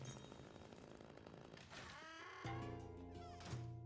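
A cat in the Luigi's Mansion video game lets out a couple of drawn-out, wavering meows over faint background game sounds.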